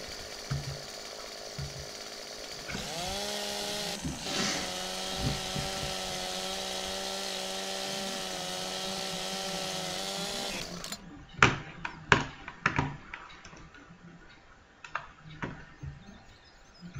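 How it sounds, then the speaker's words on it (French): A chainsaw from the Farming Simulator 17 video game runs at a steady, loud buzzing whine for several seconds, then cuts off, giving way to scattered clunks and knocks of game forestry activity. "Dites-moi si le son de la tronçonneuse n'est pas trop fort."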